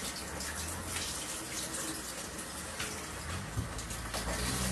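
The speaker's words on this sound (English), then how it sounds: "So I'm first going to rinse them with cold water, just to get off any excess starch." Cold tap water running steadily to rinse waxy potatoes, a continuous loud gushing stream filling a bowl or sink, with no voices.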